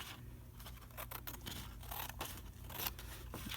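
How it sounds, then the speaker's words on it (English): Scissors trimming a paper edge straight, a run of close, quiet snips and crisp paper cuts in quick succession, with faint crinkling between strokes and no talking. "I'm just going to trim it straight."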